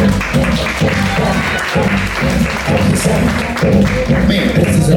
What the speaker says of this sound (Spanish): ¡Aplauden, por favor!